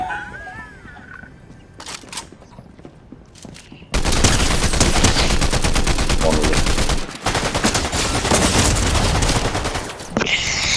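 Sustained rapid gunfire in the video game Fortnite, loud and dense bursts running continuously after a quieter stretch with a few sharp shots, briefly dropping out before resuming.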